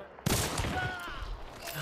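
Gunfire in a video game, a sudden loud burst that opens a dense rattling fusillade and keeps going to the end.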